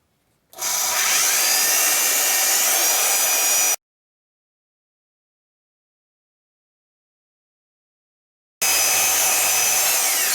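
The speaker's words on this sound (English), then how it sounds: "we'll be over at the bandsaw and we'll cut these" A bandsaw cuts metal pieces for a new rear corner on a Fairmont MT19A railroad motorcar. There are two loud, sustained cutting runs close by, separated by about five seconds of silence.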